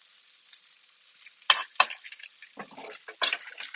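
Steak in a pan of melted butter gives off quiet, scattered sizzles and crackles, brief spitting bursts separated by near silence, with no talking.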